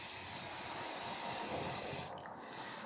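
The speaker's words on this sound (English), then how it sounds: "We're gonna spray it away with some hairspray." Hairspray hisses from an aerosol can in a steady soft spray that drops slightly and continues, quiet and close with no talk.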